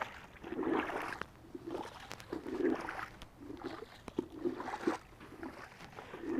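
Clothes are rinsed by hand in a tub of water, with soft sloshing and swishing in uneven pulses, faint and close, and no talking.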